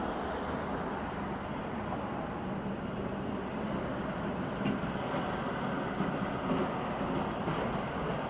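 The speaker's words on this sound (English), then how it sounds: "Wow, that is one incredibly old engine." A very old train engine rumbles past at a distance, its steady, low rolling noise lasting throughout with slight swells as the cars go by.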